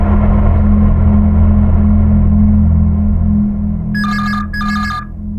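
A telephone rings in two short, bright electronic bursts near the end, heard over a loud, steady low rumble that fills the whole scene.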